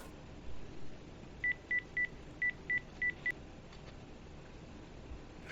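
Seven short telephone keypad dialing tones beep in an uneven sequence over a quiet room hiss, fairly faint and close, with no one talking.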